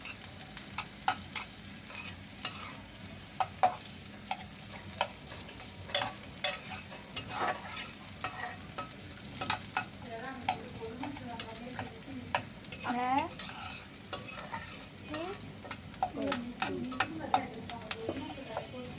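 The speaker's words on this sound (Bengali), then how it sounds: "পেঁয়াজটা লাল হতে থাক, একটু নরম হয়ে আসলে আর বাদামি বাদামি কালার হয়ে আসে ততক্ষণ পর্যন্ত পেঁয়াজটা ভাজতে থাকি।" Chopped onions frying in a pan until soft and brown, with a continuous sizzle and irregular stirring scrapes, plus brief faint voice-like sounds in the background.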